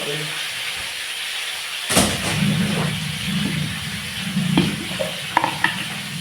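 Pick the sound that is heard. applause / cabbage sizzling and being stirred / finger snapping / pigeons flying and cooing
cabbage sizzling and being stirred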